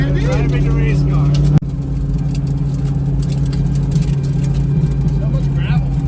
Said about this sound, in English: We're driving the race car.